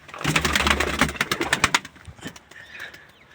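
Tumbler pigeons in flight give a burst of wing flapping and clatter, loud and close for about two seconds, then fading to faint rustling and distant bird sounds.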